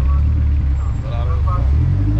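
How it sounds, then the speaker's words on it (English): BMW convertible cruising through city streets in Iraq, a loud, steady low road and engine rumble heard from inside the open car, with voices talking over it. "Alright, cruising down the streets now. In the BMW."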